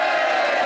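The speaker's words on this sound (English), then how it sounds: "that round of applause on the decibel-ometer was even louder" Audience applause and cheering at a classic jazz party concert, a dense, loud wash of clapping and crowd noise filling the short moment without any talk.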